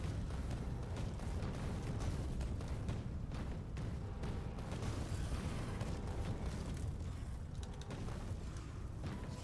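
Dense, continuous rumbling barrage of booms and bursts from explosives striking swarms of biters in Factorio, a steady loud wall of blasts with no talking.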